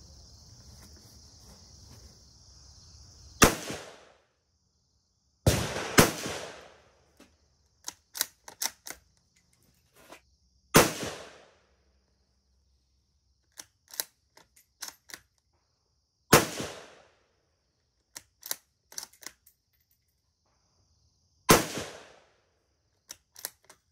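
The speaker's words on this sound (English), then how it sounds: "Let's put some rounds down range." Rifle shots from a Ruger American in 7.62x39, five loud sharp reports spaced a few seconds apart with quiet gaps and faint clicks of handling between them.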